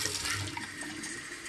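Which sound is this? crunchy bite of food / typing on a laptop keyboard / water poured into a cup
water poured into a cup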